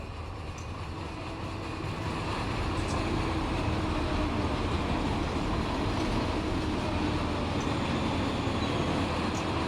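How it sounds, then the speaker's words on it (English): A freight train rolls past in Run 8 Train Simulator at a Barstow hump yard, a steady broadband rumble and clatter that holds constant for the whole stretch with no voices over it. "Just in time for some train action."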